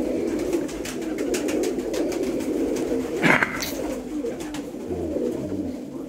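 Pigeons cooing steadily at a pigeon loft keeping fancy breeds, a continuous low, throaty murmur from several birds close by, broken once midway by a brief sharp knock.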